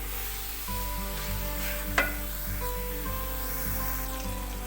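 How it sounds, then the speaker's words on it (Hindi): Aloo palak, potato and spinach sabzi, frying in oil in a pan, a continuous close sizzle with stirring scrapes and one sharp clatter midway, no voices. "इसको अच्छी तरह से हमने भूनना है जब तक इसका जो ऑयल है वो अलग ना हो जाए।"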